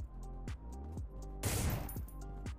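Hip-fire gunshots in the War After mobile shooter game, a dense, loud burst of rapid fire lasting about half a second, set among quieter game sounds and other brief effects.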